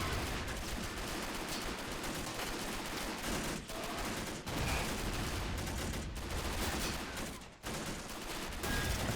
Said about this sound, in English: exchange of fire.